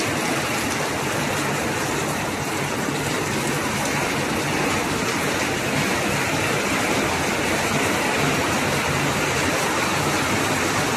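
Heavy rain pours down in Palayam, Dindigul district, as a dense, steady hiss that stays even and close throughout, with no breaks.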